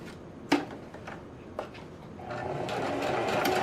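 A sewing machine runs a straight single stitch along a fabric face mask, with a couple of sharp clicks early on before a steady, close whirring stitch builds and continues to the end.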